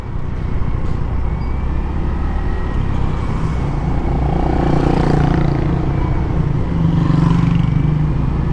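A nine-year-old stock Yamaha Mio i 125 scooter engine runs nearby with a loud, constant droning hum that is slightly uneven, as if misfiring, continuing without a break and with no speech over it.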